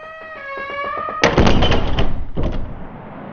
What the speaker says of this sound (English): slamming the door shut on the feckless cleric